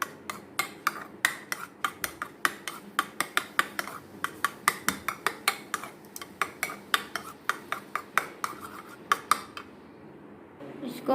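A spoon stirs yogurt with food colour in a bowl, rapid repeated clinks and scrapes against the dish in a steady rhythm, close and clear, fading at the end.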